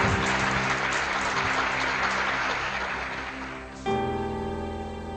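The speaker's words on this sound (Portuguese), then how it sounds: "Diga glória a Deus e aplauda o Senhor." Congregation clapping together in a church service, a dense sustained wash of applause that fills the first four seconds before giving way to a steady organ-like musical tone.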